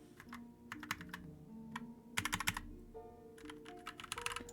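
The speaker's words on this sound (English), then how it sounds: "I'm hitting every button on the keyboard." Rapid, uneven clatter of many computer keyboard keys being pressed at once, close and fairly quiet, heard with soft game sounds and tones playing underneath.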